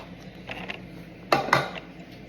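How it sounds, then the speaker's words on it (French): A utensil clinks and scrapes against a bowl while an omelette mixture is stirred in a home kitchen: a few light taps, then two sharper clatters close by, with no talking. "Je vais mélanger un peu l'omelette."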